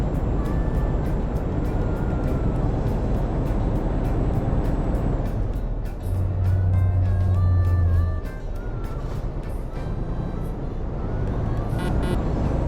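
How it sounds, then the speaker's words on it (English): Heavy trucks roll past in Euro Truck Simulator 2 with a traffic mod, heard in VR. A low engine rumble and road noise build to a loud, deep drone midway, then ease off. "did you hear those? Some of them trucks going past."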